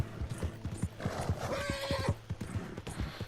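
A horse gallops in Red Dead Redemption 2, with rapid rhythmic hoofbeats throughout and a neigh in the middle, fairly close and clear.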